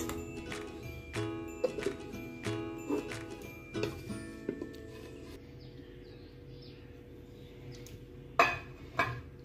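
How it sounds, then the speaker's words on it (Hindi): A knife scrapes and taps around the edges of a metal cake tin holding a cooled, spongy Oreo biscuit cake, giving a run of close, sharp metallic clinks that thin out and then return with two louder knocks near the end. "अब हम इसको निकालते हैं थोड़ा सा छुरी से किनारे से।"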